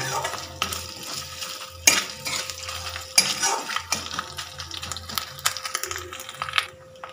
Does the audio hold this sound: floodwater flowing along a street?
no